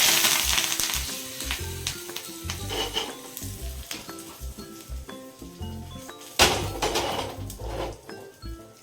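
Asafoetida and curry leaves sizzle in hot oil in a pan for a sambar tempering, a close crackling fry with stirring scrapes and a sudden louder burst of spitting partway through.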